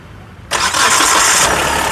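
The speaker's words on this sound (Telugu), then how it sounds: "ఒకసారి ఇంజన్ స్టార్ట్ చేసి చూపిస్తున్నాను" A 2019 Hyundai Creta SX Plus engine cranks and catches abruptly on a single start, then settles into a loud, steady running roar close by.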